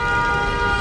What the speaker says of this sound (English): That's a Midtown car honk for you.